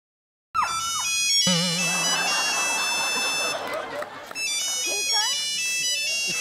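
A mobile phone plays a melodic ringtone that sounds loudly for several seconds on a comedy show stage, while people talk and a crowd murmurs around it.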